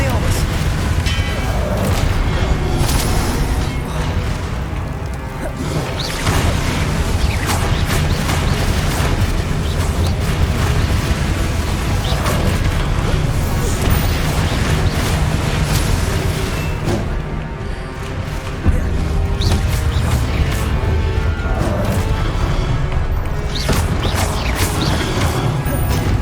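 Spell impacts from Arresto Momentum and Expelliarmus in the Hogwarts Legacy video game, dense booming crashes and mechanical whooshes layered under game music, with a person talking over the action.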